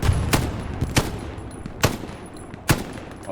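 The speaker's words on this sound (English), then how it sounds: "Hold on, I'm shooting at someone." Gunfire in the World War II shooter Hell Let Loose: four sharp, loud shots spaced roughly a second apart, each cracking over a steady low rumble of battlefield ambience.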